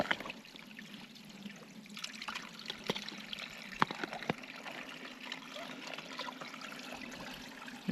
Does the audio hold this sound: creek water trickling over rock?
yes